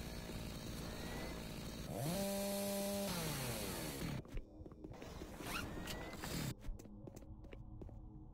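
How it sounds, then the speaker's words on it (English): A chainsaw in the game Doom 3 revs with a loud, steady mechanical whine and rising pitch sweeps, then cuts off into choppy, sputtering bursts and brief clanks near the end, with no talking. "I've been neglecting the chainsaw."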